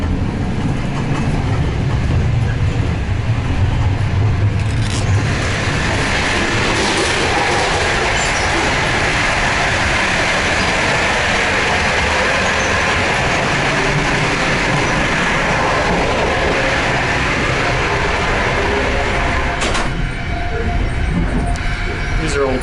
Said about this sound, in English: These are old Soviet trains.